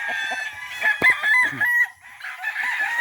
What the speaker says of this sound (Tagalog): Super dami ng manok guys, oh.